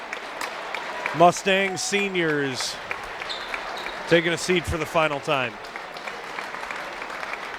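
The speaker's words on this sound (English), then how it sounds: "good round of applause for all of the" A crowd applauds the Mustang seniors at a Menomonie at Central basketball game, a broad wash of clapping running under an announcer's talk.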